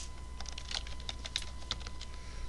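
Typing on a computer keyboard during a cyber club meeting demo, scattered light clicky keystrokes at an uneven pace over a low room hum, with no talking.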